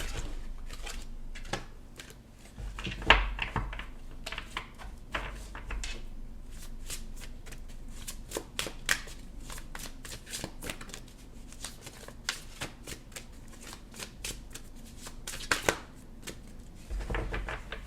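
Oversized cards in a twin flame card reading are shuffled by hand in a steady run of close, crisp riffles and slaps, with brief pauses between bursts and no talking.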